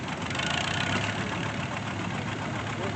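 A 1940 Farmall M tractor engine idles at a steam and gas association parade with a steady, mid-low chugging rumble, close and continuous for a few seconds.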